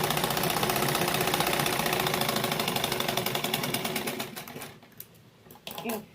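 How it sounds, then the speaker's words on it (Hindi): A sewing machine runs in a fast, steady stitching rhythm while sewing an invisible zip into a kurti, then slows and stops, followed by a few short bursts and clicks. "इस तरह से पूरे में सिलाई डाल देनी है।"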